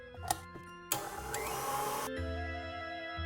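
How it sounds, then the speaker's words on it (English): Electric mixer running on low speed through chocolate cake batter, a steady whirring motor drone with a sharp rise in pitch partway, close and loud, with no talking. "While the mixer is on low speed, I'm gonna add 2 eggs"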